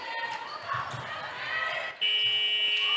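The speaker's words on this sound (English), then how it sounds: "And that's the buzzer." A netball quarter-ending buzzer sounds near the end of a Netball Super League 2023 match between Team Bath and Saracens Mavericks, a loud steady electronic tone cutting in partway through over crowd noise and commentary.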